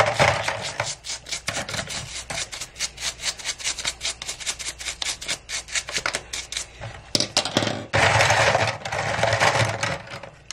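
Nail clippers held open and scrubbed with a soapy brush, a rapid run of close, dry bristle strokes in steady rhythm that grows louder and denser toward the end, with no talking.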